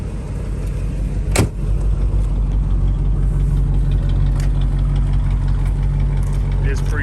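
A 1960 Cadillac DeVille idles on a cool morning with water coming out of the exhaust, a steady low rumble heard close and continuous, with a brief sharp click early on.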